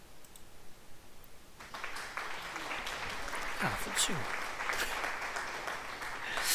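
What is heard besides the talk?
applause in a truck driving video game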